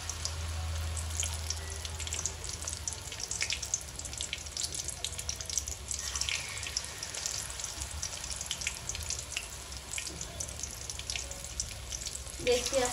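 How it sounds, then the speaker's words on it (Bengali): Batter-dipped onion fritters frying in hot oil, a constant crackling sizzle filling the whole stretch at moderate loudness. "সবগুলি কিন্তু আমি একইভাবে দিব, মানে ব্যাটারে চুবিয়ে চুবিয়ে তারপরে এইভাবে তেলে ছেড়ে দিব"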